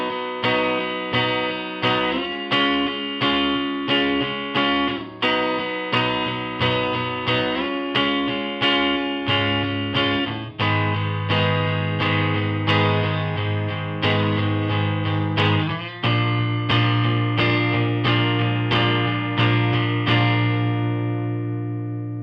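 Electric guitar strumming an eight-bar Northern Soul pre-chorus chord progression with effects and light distortion, steady rhythmic chord hits with a low bass note sustaining underneath in the second half, played alone and fairly loud.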